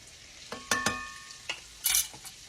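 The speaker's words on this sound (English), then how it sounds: "We're going to melt our stick of butter in our skillet, in my iron skillet here." A stick of butter melting in an iron skillet, faint quiet sizzling broken by a few distinct scrapes and knocks of a utensil against the pan, including a brief louder hiss near the end.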